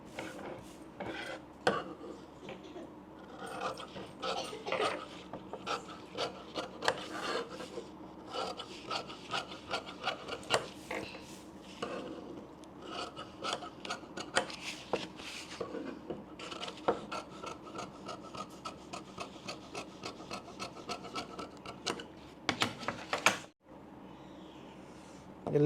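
Scissors cut blouse fabric for a katori-style blouse on a tabletop, giving a long run of dry rasping snips and rubs in irregular bursts, fairly close, with a brief pause near the end.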